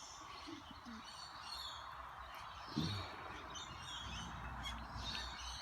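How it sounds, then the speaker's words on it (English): Lorikeets call outdoors at a morning bird feeding spot, with scattered chirps and shrill calls at a moderate distance over a steady hiss of background ambience. "The lorikeets are making their way in."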